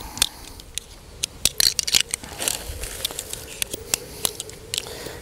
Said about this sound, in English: Just pull your poles apart, fold them up.